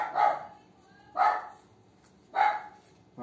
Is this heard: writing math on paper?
no